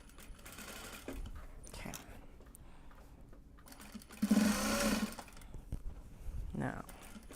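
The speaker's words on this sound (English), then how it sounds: "So, as we sew." Sewing machine stitching a seam on a drawstring bag made from Japanese fabric, a steady mechanical whirr in a short burst mid-clip, close up, with a brief spoken word before it.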